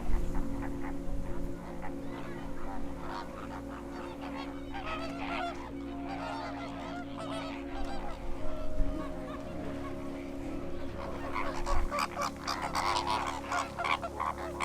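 A flock of greater flamingos performing courtship displays gives a dense, continuous chorus of goose-like honks and grunts. The calls overlap nearby at a steady, moderate level, with occasional louder bursts.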